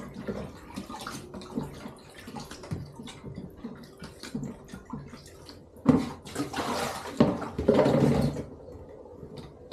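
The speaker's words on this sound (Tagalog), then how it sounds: "So, atin lang pong hugasan ng 3 beses." Mustard greens are rinsed in a basin of water after soaking in salt water, with sloshing and splashing that starts soft and grows louder and busier toward the end, close by and without talk.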